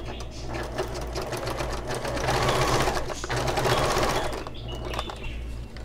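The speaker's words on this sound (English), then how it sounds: "Now I always like to increase my stitch length when I top stitch." Sewing machine top stitching a seam on fabric for a Moroccan-style storage ottoman, a steady close motor whir with rapid needle chatter that rises and falls slightly in speed over several seconds, with no talk.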